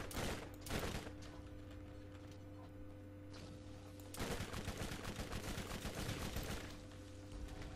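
Rapid bursts of gunfire in Borderlands (2009) crack close and loud, with a short volley at the start and then a long sustained automatic stream from about the middle, over a steady mechanical hum.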